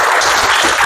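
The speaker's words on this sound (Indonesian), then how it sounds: "Tepuk tangan dulu buat." Brief burst of classroom applause, students clapping hands together in a dense, steady wash for under a second.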